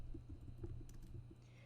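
A computer keyboard is typed on in short, quiet bursts of soft clicking keystrokes over a low background hum.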